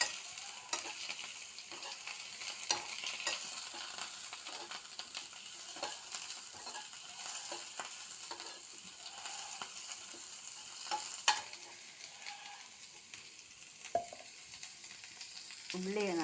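Chopped onion sautéing with small prawns in a pan, a steady sizzle running throughout with frequent scraping clicks from stirring, fairly constant in level and close up, with no talking.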